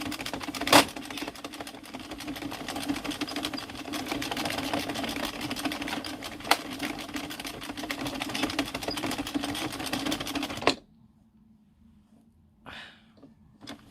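An Addi knitting machine whirs steadily with a dense rattling mechanical texture as its cogs slip, loud and continuous for about eleven seconds before stopping abruptly, leaving near silence with a few faint clicks.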